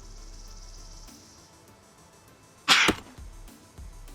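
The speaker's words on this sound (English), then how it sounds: "And I had to sneeze there." A single sharp human sneeze bursts out loud and close, with a faint game-world background of insects and ambience before and after, while building a home in the survival game SCUM.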